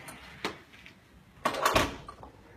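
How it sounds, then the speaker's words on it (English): A door in a university residence hall is pushed shut, with a light knock early on, then a louder clunk and rattle as it closes, nearby and without speech. "We'll go ahead and close that door."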